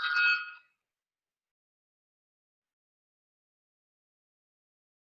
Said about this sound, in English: Oh, my alarm.